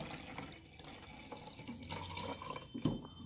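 Water poured into a Barbie Colour Reveal toy, a steady soft splashing stream close by for a few seconds with a brief louder gurgle near the end, no voices.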